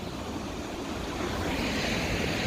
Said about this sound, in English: I guess I made it to the ocean.